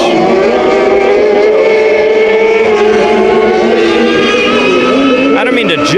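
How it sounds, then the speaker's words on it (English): High-pitched race car engine at Bakersfield Speedway, a sustained whining drone with harmonic overtones held steady throughout, loud and close, with a commentator's voice running over it. "That car has a high pitch."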